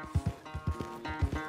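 Horse hooves in the Red Dead Redemption 2 video game, a rhythmic clip-clop of a trotting horse with soft paired thuds, mid-distance and fairly quiet over a faint musical background.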